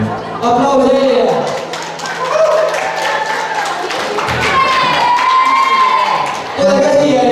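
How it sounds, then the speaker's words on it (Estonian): Audience at a school playback show clapping in loud, close applause mixed with voices and a cheer, the clapping running under ongoing chatter and shouts across the whole stretch. "Aplaus neile."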